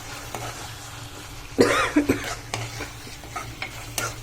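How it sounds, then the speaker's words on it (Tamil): Fried brinjal being stirred into a tomato chili masala in a pan for brinjal thokku, with a few loud scraping stirs in the middle over a low, steady sizzle. "அதை எடுத்து இதில் போட்டுடணும். போட்டுட்டு நல்லா கலக்கணும்."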